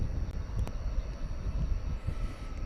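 A passenger plane, Flight 3541, approaches the runway at DFW Airport at night, heard as a faint, distant, steady low rumble with a few light clicks on top.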